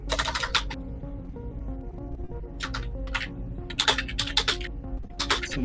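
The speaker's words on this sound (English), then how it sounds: "Some aggressive typing." Fast, heavy typing on a noisy computer keyboard, delivered as clustered bursts of loud key clacks over a steady low hum, with short pauses between the flurries.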